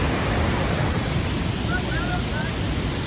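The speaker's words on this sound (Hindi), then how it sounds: "ये देखो पानी किस तरह से गिर रहा है" A waterfall in Karbi Anglong pours in a continuous, dense roar of falling water, loud and unbroken, with some wind buffeting the microphone.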